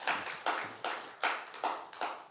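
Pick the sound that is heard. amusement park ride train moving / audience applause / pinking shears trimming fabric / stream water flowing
audience applause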